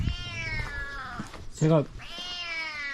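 A stray cat that recently had kittens meows loudly for food at a rural mountain farmhouse, one clear drawn-out meow in the middle with someone talking before and after.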